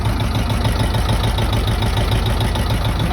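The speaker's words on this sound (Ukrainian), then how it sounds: "Так, тракторець трошки прогрівся." An old tractor engine idles once warmed up, running on M10G2K oil, a loud, steady low rumble with an even rapid pulse, close and alone.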